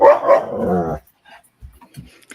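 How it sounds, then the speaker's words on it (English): A dog growling and barking over a bone: about a second of close, loud, strained vocalizing, then near silence with a few faint scuffs. "My dog is having a difficult experience around a bone."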